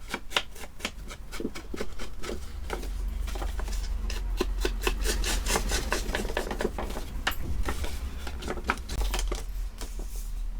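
Scrapbook paper edges are rubbed with an ink pad in quick repeated strokes, a close, dry scuffing and rasping rhythm that runs continuously over a low hum.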